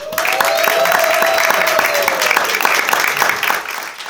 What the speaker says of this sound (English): let's give it up one more time for Miss Parul.